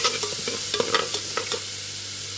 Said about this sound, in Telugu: బటర్లోనే వేగాలి ఫ్రెండ్స్.